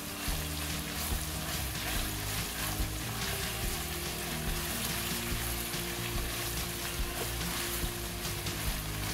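Dried red chilies and onion fry in hot oil with a steady, dense sizzle that stays loud and close throughout, with no talk.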